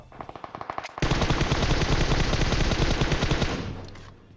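Rapid, sustained M249 machine gun fire in PUBG Mobile from a hill above, loud and close, following a few separate shots.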